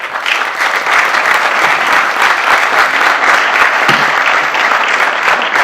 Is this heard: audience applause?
yes